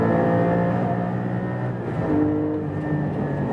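Engine of a Porsche 718 Cayman GT4 driven on a track, a loud, steady six-cylinder drone heard from inside the car that dips briefly as the driver lifts off, then pulls on again with a rising tone.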